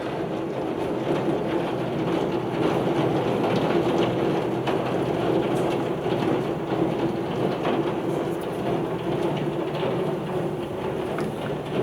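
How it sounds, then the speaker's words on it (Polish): Heavy rain pouring down in a sudden thunderstorm, a dense continuous hiss of drops on surfaces heard from indoors, steady and loud throughout without pause, with no talking. "w jednej chwili właśnie zerwała się taka ulewa duża, no i burza po prostu"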